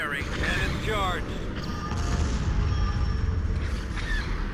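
Charged cannon shots from a Star Wars strategy video game, heavy booms and crashes layered over dense battle noise with brief electronic tones, fairly loud and continuous.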